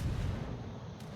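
Naval guns firing from warships in a World of Warships battle make a heavy, sustained low boom that rumbles loudly through the whole moment, with no voices over it.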